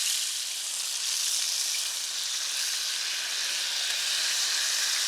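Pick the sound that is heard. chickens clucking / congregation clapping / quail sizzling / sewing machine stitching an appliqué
quail sizzling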